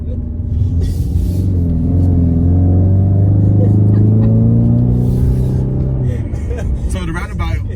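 A 2020 Ford Mustang High Performance Package with 332 hp circles a roundabout, its engine a close, steady drone whose pitch climbs and eases as it accelerates through the turn.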